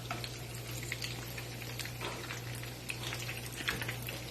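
Crab cakes sizzle and fry steadily in a hot pan, a dense continuous crackle with scattered pops and a low steady hum underneath, no voices.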